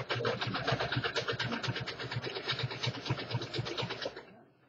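A serger sewing machine stitches around a fabric edge in a fast, continuous rhythmic whir close by, then winds down and stops just before the end.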